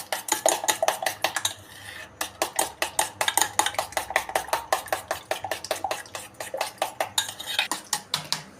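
A spoon stirs chili powder and coriander powder into an omelette mixture in a bowl, giving rapid, steady clinks and scrapes close by, with no talking.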